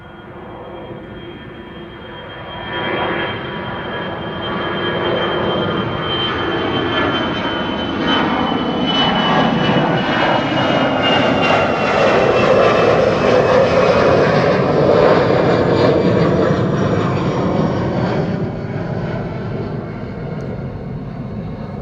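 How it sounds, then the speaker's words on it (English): An Air France jet takes off from Schiphol bound for Paris Charles de Gaulle, its engine roar swelling loudly after a few seconds and holding as a steady, broad rumble with a whining tone, then easing slightly at the end. "Air France on the way to Paris Charles de Gaulle, flight 1341."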